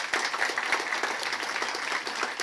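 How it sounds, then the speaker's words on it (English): Audience at a city State of the City event applauds the fire chief, a dense, sustained patter of many hands clapping at moderate level with a few sharper claps standing out. "Yes, give her a round of applause."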